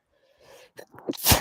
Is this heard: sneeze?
yes